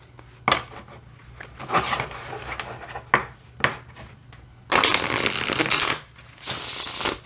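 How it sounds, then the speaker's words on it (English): Tarot de Marseille cards are shuffled in a few quick riffles, then two longer bursts of rapid shuffling, close and crisp, with light handling in between. "let's see how these shuffle"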